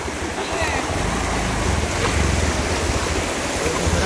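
Floodwater rushing through a village, a steady loud roar of flowing water with wind buffeting the microphone, and voices faintly beneath.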